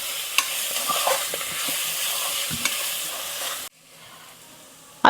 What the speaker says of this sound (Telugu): మొత్తం వేసిన తర్వాత మంచిగా కలిసేలాగా కలుపుకుందామండి మొత్తం